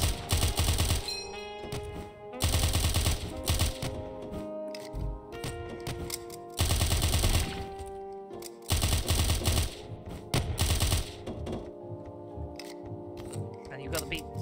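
Rapid bursts of gunfire from shots in Of Murder and Moonshine, a stealth video game, come in loud clustered volleys separated by short gaps, along with game music tones.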